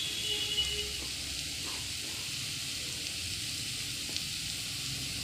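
Garlic paste sizzles steadily in a hot kadai with chopped onion and green chilli, a constant bright hiss with a faint scrape or two, and no talking.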